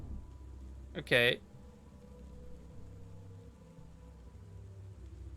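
Steady, soft rain hiss fills the scene in the video game Lucifer Within Us, with a low rumble underneath that may be distant thunder. A single short spoken word cuts in near the start.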